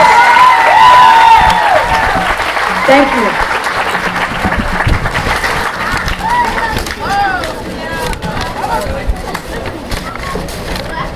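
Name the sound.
applause for students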